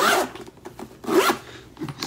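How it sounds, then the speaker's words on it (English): A zipper closing an Xbox adaptive controller travel case: two quick, close rasping pulls separated by a short pause, with a fainter tug at the end. "Zip it up."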